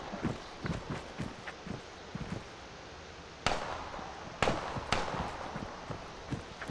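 Gunfire in the Arma 3 Ravage mod: two or three sharp shots crack faintly in the distance amid quiet, rhythmic in-game footsteps.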